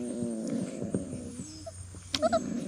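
A 5.5-pound small puppy at someone's feet gives a few soft whimpers and whines near the end, after quiet snuffling and shuffling noises up close.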